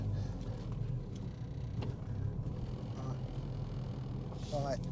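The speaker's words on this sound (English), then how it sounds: "Wow, there's a lot of cars." Many Mini cars lapping the Brands Hatch circuit during a Mini festival, a steady engine rumble from a crowded track that holds throughout, with a brief higher whine near the end and people talking over it.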